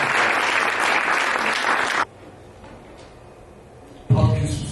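A church congregation claps for a pastor welcoming him to the platform, dense loud applause for two seconds, then a quiet gap, then clapping swells again near the end.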